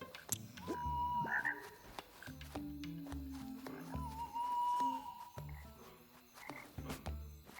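Singing frogs croak in a swamp level of a video game, repeated synthetic croaks with pitched tones recurring steadily over a low rhythmic musical bed, loud and close with no talk.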